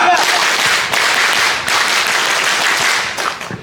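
A crowd of scouts claps loudly in a fast, dense rhythm for the scout clap, tepuk pramuka, sustained and close with no pause.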